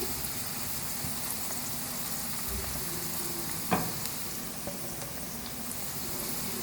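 Okra frying in oil over a medium flame gives a steady, soft sizzle throughout, with one brief sharper clatter partway through and no talking.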